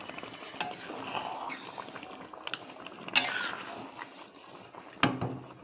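A spoon stirs Bombay duck (lote fish) curry in a pan, with soft scraping and a watery bubble underneath, plus a few sharp clanks against the pan. Close and moderately quiet, with no talking.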